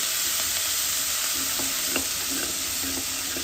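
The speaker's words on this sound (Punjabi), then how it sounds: "ਆਲੂ ਜੀਰਾ ਅਦਰਕ ਤੇ ਮਿਰਚ ਭੁੰਨ ਲੈਣੀ" Potatoes, cumin, ginger and chilli roasting in a pan, a constant hiss of frying with light, intermittent clicks of a spoon stirring, close by and without talk.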